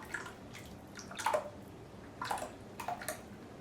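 Lye solution and oils for shampoo bars being stirred slowly in a container, giving faint, soft liquid sloshes and small drips in short bursts against a quiet room.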